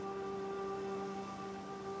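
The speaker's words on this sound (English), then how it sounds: "It's raining in -3 degrees temperatures." Freezing winter rain in the video game Dawn of Man, a quiet, steady hiss of falling rain with no talk, a low sustained musical drone running under it.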